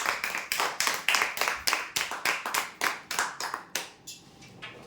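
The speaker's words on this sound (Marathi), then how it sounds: "जोरदार टाळ्या होऊ यांच्यासाठी" A crowd claps for a winner announced at a weekly lottery prize draw: a dense, steady round of hand claps lasting about four seconds, then thinning out as it ends, with no talk over it.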